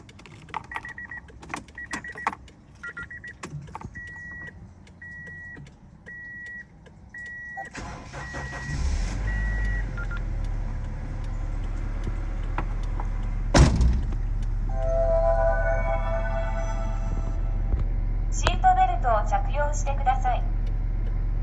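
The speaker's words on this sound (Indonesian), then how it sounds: "Sekarang waktunya kita nyalain nih suara dari Honda CR-V first gen ini." First-generation Honda CR-V with a 2000 cc engine cranking and catching, then settling into a smooth steady idle that grows louder partway through, with clicks and light rattles near the start and speech over it.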